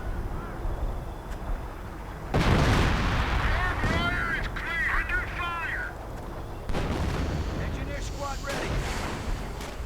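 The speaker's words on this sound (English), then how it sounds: "Sherman rolls in, firing away. High explosive rounds and 50 caliber fire. And artillery in on the bunker." Artillery and tank fire in the Company of Heroes strategy game, a Sherman firing high explosive rounds and 50 caliber guns at a bunker: booming blasts and rattling bursts over a steady rumble, under continuous commentary.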